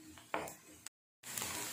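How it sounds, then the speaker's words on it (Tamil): Finely chopped onions land in two teaspoons of hot oil in a pan on the stove, giving a steady close sizzling hiss with a small clink near the start, then a brief silent break before the sizzle resumes. "ஸ்டவ்ல pan வெச்சிட்டு 2 டீஸ்பூன் எண்ணெய் விட்டுருக்கேன் இதல நம்ம பொடியா கட் பண்ணி வச்சிருக்க வெங்காயத்தை சேர்த்துக்கலாம்"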